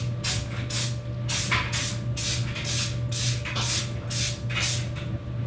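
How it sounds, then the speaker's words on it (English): Bed liner coating sprayed onto homemade off-road rock sliders resting on a shop floor, heard as about nine short, evenly spaced hissing bursts over a steady low hum. "throw some bed liner on it"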